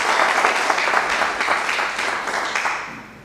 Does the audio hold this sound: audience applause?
yes